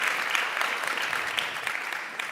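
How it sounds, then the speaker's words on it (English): Audience applause at the National Arab American Convention, a steady wash of many hands clapping close by, fairly even in loudness throughout with no voices over it. "Please, he does deserve a round of applause."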